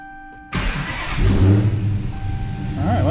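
Dodge Challenger SRT Hellcat V8 on its first start after a tune, a sudden loud crank and catch, then a deep rumbling idle that swells and settles, heard close up.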